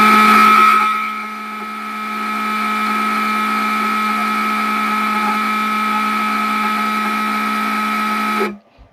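A spark plug tester for Simson and MZ plugs runs with the plug sparking, giving a steady loud buzzing drone with strong tonal harmonics that holds for about eight seconds and then cuts off abruptly.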